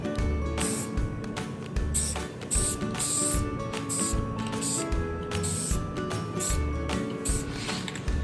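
Krylon Catalina Mist spray paint sprayed onto an epoxy board in repeated short hissing bursts, close and fairly loud, over a busy mechanical background.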